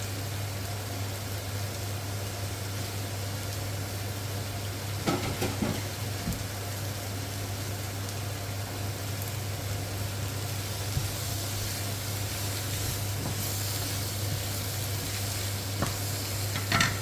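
Garlic fries in a pan with a continuous, even sizzle, broken by a few faint clinks of stirring. A low steady hum runs underneath.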